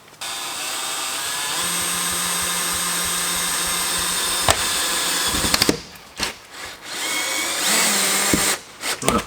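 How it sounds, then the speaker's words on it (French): A cordless power drill drives screws into a plastic camper-van toilet lid, whining steadily for several seconds, then gives short bursts and clicks as the screw seats, followed by another brief run; close and loud. "on va visser les 6 vis sans perçage préalable"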